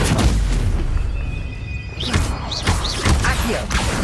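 Stunning Stupefy spell strikes in the video game Hogwarts Legacy: several heavy booming impacts and thuds over a busy combat soundscape, with brief chirping cries between hits.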